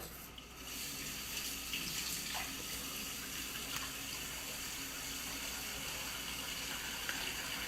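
A kitchen tap runs in a steady, even gush while hands are washed under it, close and continuous for several seconds with no voices.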